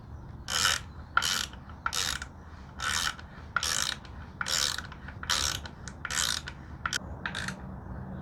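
A hand ratchet clicks in about ten regular bursts, each a rapid rasping run of pawl clicks, while engine guard bolts are tightened on a Honda Rebel 1100 motorcycle, close and clear with no talking.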